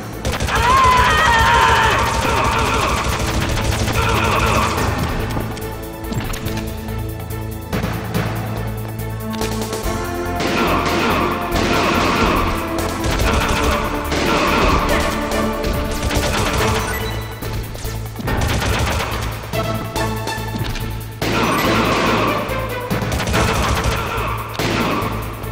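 Rapid gunfire and explosive crashes in a Metal Gear Solid video game boss fight on extreme difficulty, dense bursts under loud game music and character voices, continuous throughout.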